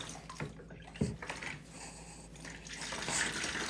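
Water runs and splashes over a silicone baby doll as it is rinsed, a close, uneven trickle with a few drips and small knocks.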